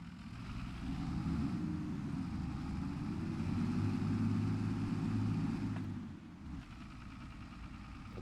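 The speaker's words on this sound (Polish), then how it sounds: "Przecież obroty nie są wysokie, ledwo się toczy, a silnik już nie jest taki zimny." An engine, no longer cold, runs at low revs as the vehicle barely rolls forward, a steady close rumble that eases off near the end before settling again.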